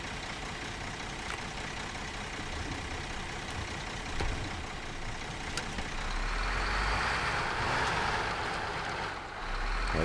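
Truck from SnowRunner backing up to a cement wall: a steady, droning engine rumble that swells slightly midway, with faint repeating reversing beeps over the hum.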